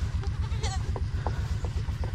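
Several goats bleat at scattered moments on a farm, over a loud steady low pulsing hum from machinery nearby.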